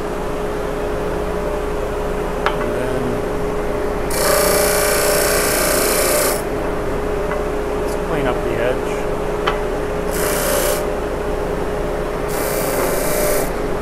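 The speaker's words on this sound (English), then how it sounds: "12 inch disc sander," A 12 inch disc sander works a wooden guitar head block in a few separate bursts of harsh abrasive rasping over a steady motor hum, with quieter knocks between passes.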